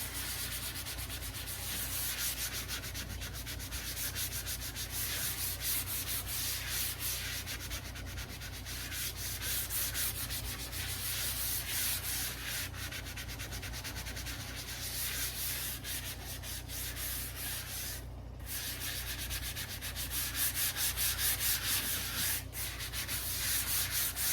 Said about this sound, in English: And now I'm going to use a dampened Scrub Daddy.